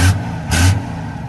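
Second-generation diesel pickup engine given two quick, loud throttle blips close up, each surge dropping back to a rumbling idle.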